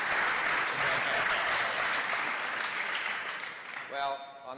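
Audience applause fills a Cleveland Browns Black History Month program at the Pro Football Hall of Fame, a steady dense wash of clapping that fades slightly toward the end as a voice begins to speak.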